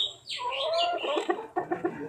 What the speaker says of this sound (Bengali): এখানে সবগুলো ডিম দেওয়া মুরগি।